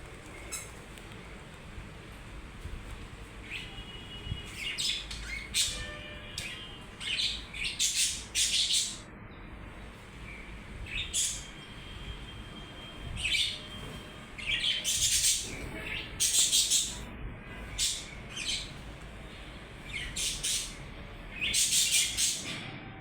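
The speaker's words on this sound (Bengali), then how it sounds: "বৃষ্টির মধ্যে কয়টা পাখি এসেছে বারান্দার মধ্যে। পাখিগুলো খাচ্ছে" Small birds chirping and squawking on a balcony during rain, with sharp clustered calls rising over a steady background hiss of rainfall.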